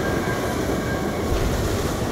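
Doom Train rumbling through a Skyrim game scene, a loud continuous rail roar with rattling wheels and metallic squeal, steady and close for the whole stretch.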